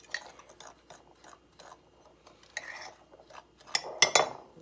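A fork whisks ingredients together in a mixing bowl, giving scattered light clinks and scrapes that build into a louder burst of clatter near the end, with no voices.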